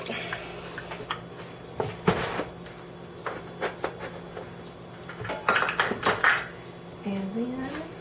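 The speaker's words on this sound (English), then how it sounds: "I'll just mix this by hand and it's fine." Cornbread batter with milk is stirred by hand in a bowl, with irregular clinks and scrapes of a utensil against the dish, close by, mixed with a few bumps and some talk in the kitchen.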